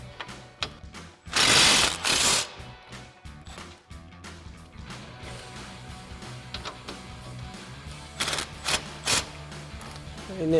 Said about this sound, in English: we're going to remove this bolt using our 15 mil swivel socket and extension on our impact